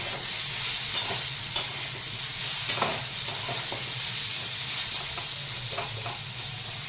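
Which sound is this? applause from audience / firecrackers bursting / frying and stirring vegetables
frying and stirring vegetables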